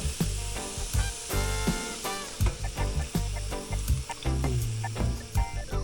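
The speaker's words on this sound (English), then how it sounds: "just let that fry for a bit. That'll bring out like some of the fat in the coconut milk" Curry paste frying in coconut milk in a pot sizzles and bubbles steadily up close, with intermittent stirring scrapes and pops throughout.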